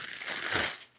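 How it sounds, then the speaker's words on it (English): A very light plastic bag packed around an EV charging adapter gives a brief, close crinkle of about a second, with broad rustling swelling in the middle and then fading, no talking over it. "unobtrusive plastic bag."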